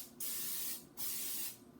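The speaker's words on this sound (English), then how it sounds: "I'm just going to spray any type of casserole pan that you have that will hold all of that" Cooking spray hisses onto a casserole pan in two steady, close bursts of about half a second each, with a short pause between them and no talking.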